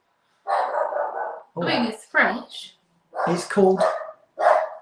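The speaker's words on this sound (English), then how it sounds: "Apologies for the dogs barking in the background." Dogs bark in the background during a live broadcast, partly masked by a person talking close to the microphone in bursts.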